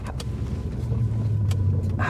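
Inside a Lexus LS400 climbing uphill, a steady low exhaust drone hums continuously under the cabin, with a couple of brief thumps or clicks over the top.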